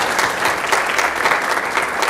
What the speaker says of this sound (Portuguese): E eu peço a permissão que vocês batam uma salva de palmas para os vereadores da nossa cidade